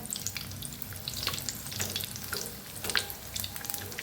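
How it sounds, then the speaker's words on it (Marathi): Steady sizzling and crackling of bread frying in hot oil for ulta vada pav, with a few sharper pops and light stirring sounds, close up and continuous. "तेल बी आपलं चांगलं गरम झालं आहे हे पा असं करून तेलात सोडायचं"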